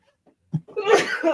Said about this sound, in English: I got sneezed.